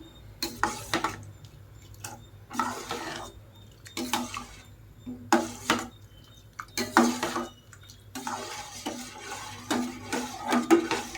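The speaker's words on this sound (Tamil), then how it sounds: "நல்லா கலந்து விட்டுக்கணும்" A spoon scraping and clinking against a pot of adai payasam in repeated bursts, stirring rhythmically with short pauses, close and clear.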